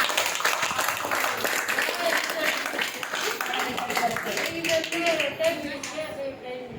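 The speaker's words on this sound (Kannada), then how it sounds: "ಜೋರಾಗಿ ಚಪ್ಪಾಳೆ ಅಪ್ಪ ಅಮ್ಮ" Parents clap loudly at a therapy centre, a fast, steady run of sharp claps that lasts throughout while people talk over it.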